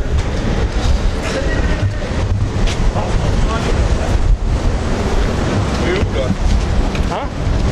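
Strong wind roars and buffets the microphone throughout, a constant loud rush with faint voices underneath.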